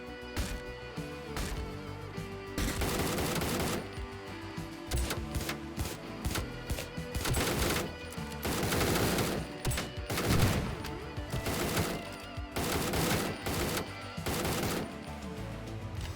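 Rapid bursts of gunfire in the video game Door Kickers: Action Squad on Switch, loud repeated volleys coming in clusters with short gaps between them, alone over a steady game backdrop.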